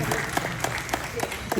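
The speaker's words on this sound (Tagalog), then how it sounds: "Konting palakpak lang po muna sa akin." A crowd at a reunion event claps in a dense, steady burst of applause, heard close and loud throughout.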